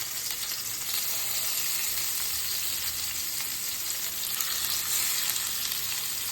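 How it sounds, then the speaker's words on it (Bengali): Marinated chicken pieces frying on a flat tawa pan, a dense, even sizzle that holds steady and loud throughout with faint crackling and no talk. "আমি ম্যারিনেট করা চিকেনগুলো তাওয়ার মধ্যে দিয়ে দিচ্ছি।"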